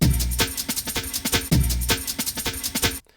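A heavy, slowed pitched-down drum break sample loops twice, with deep booming kicks and thick snares in a steady groove, loud and unaccompanied, ending abruptly.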